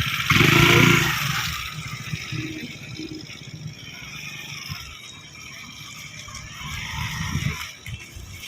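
A scooter engine revs up loudly and then settles back to a lower idle, rising and easing again during one-hand riding practice, heard close with outdoor background noise.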